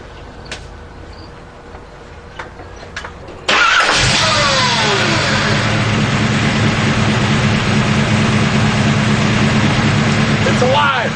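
A Shafiroff Racing 383 engine in a gray Camaro cranks and fires abruptly after a few quiet seconds, then settles into a loud, rough, steady idle with a brief blip of revs near the end.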